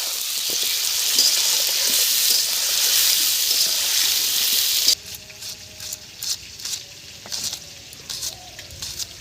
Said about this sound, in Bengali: ভেজে নেবো ভালো করে আলুটা